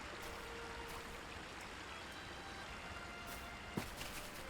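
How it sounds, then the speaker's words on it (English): Steady broadband rush of falling water from a waterfall in the video game Lord of the Rings Online, continuous and fairly close, with a brief knock near the end. "Okay, where's the waterfall?"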